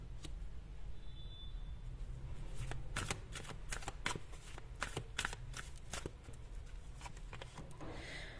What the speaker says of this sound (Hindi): मैं एक कार्ड और निकालना चाह रही थी